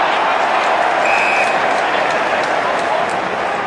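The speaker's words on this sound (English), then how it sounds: "Crowd roar their approval." A large stadium crowd at a 2010 AFL match between Richmond and Fremantle roars in a loud, continuous wash of noise, with scattered clapping and a commentator speaking over it.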